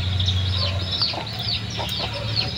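Chickens cluck softly and intermittently in short bursts over a steady low hum, with no one talking.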